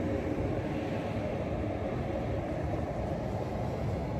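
A train departs a station on a long rail journey from Narvik to Oslo, a steady low rumble and hum from moderately nearby that holds evenly throughout with no voices.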